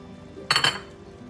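Shrimp going back into a pan of creamy Alfredo sauce over low heat, giving a brief pair of clinks from a utensil against the pan, close and short against a quiet background.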